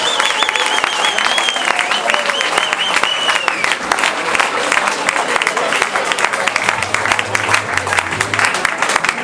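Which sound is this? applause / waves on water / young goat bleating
applause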